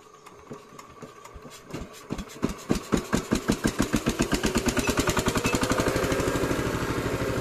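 A farm tractor's engine chugs nearby, its low rhythmic pulses starting slowly, then quickening and settling into a steady, even idle.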